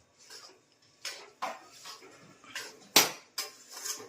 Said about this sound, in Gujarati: હવે આમાં કાજુ અને બદામ નાખી દેવાના